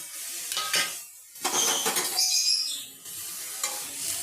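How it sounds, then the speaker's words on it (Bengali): Spiced cauliflower and potato pieces, dusted with turmeric, chilli, pepper and cumin powders, frying over a medium gas flame, giving a close, uneven sizzle broken by scraping stirs with short quiet gaps. "এটা আমি গ্যাসটা মিডিয়াম ফ্লেমে করে হালকা করে ভেজে নেব"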